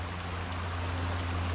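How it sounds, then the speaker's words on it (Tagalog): Flowing water from a clear stream at the edge of farm fields gives a steady, even rush with a low hum underneath, unbroken for the whole short stretch. "So dito tayo ngayon sa gilid ng sapa."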